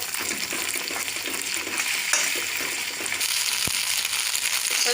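Paneer frying in a pan with pepper and salt makes a continuous close hiss of hot oil, joined by a few scraping stir strokes and a brief knock near the end.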